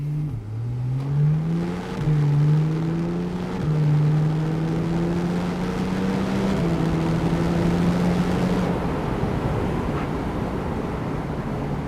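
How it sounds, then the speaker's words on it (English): A 2015 Porsche 911 991.1 Turbo S engine rumbles loudly and steadily, its pitch stepping upward in several surges as the car accelerates, with the revs climbing through successive gears and no talk over it. "the engine is rumbling, I can feel it, I can hear it"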